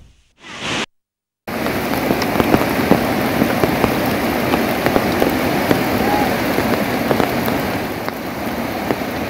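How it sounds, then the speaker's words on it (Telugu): Heavy, unceasing rain in Alluri Sitarama Raju district pours steadily in a dense, constant hiss, broken only by a brief gap near the start, with scattered drops pattering close by. "అల్లూరి సీతారామరాజు జిల్లా ఎడతెరిపి లేకుండా వర్షం కురుస్తుంది."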